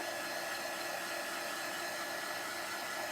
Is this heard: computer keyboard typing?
no